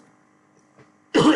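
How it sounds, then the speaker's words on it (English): A quiet pause, then one short, harsh cough or throat-clear bursts out close to the microphone right at the end. "Again, I apologize for my coughing."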